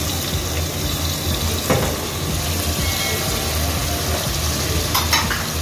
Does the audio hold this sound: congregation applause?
no